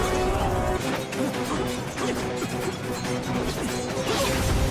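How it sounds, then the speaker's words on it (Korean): Boulders dropped by soldiers crash down in a loud, continuous tumble of heavy thuds and grinding impacts, rumbling steadily for several seconds with no clear pause. "이람과 이윤석이 군사들과 힘을 합쳐 바위를 떨어뜨리고"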